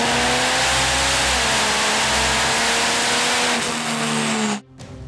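A roughly 1800-horsepower drag race truck engine roars on a dyno, a loud sustained high-rpm drone with pitch steps as it climbs through the gears, then abruptly cutting off near the end.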